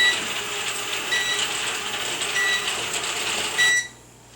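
A Sharper Image DX-2 Stunt Quad toy quadcopter hovering against a ceiling, a steady high whirring buzz with faint ticking that cuts out suddenly near the end, no speech.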